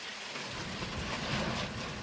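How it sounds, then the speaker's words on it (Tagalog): Strong wind gusts during a typhoon, a steady, loud rushing roar with a low rumble that builds slightly midway and carries on without pause or voices. "Yan, nakita mo, lakas ng hangin."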